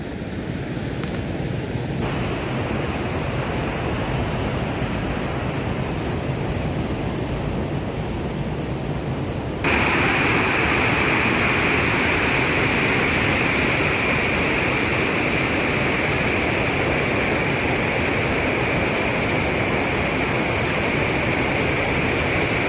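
Water rushes out of Satiguda Dam in a loud, continuous roar of broad noise that grows louder and fuller about halfway through, with no voices over it.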